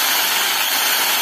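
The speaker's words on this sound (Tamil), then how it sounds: "ட்ரில்லு வேலை செய்ய ஆரம்பிக்கும்." An electric drilling machine runs in reverse with a steady, even high-pitched whir, close and continuous without any change in speed, and no voices over it.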